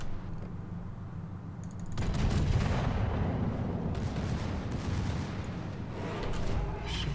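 Heavy naval guns boom from a warship in World of Warships, a deep rolling salvo with a long rumbling tail and scattered later cracks of secondary fire, loud and continuous.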